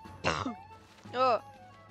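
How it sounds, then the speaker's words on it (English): Two harsh, throaty coughs from a person, close up and spaced about a second apart, with quiet between them. "Still dealing with that cough."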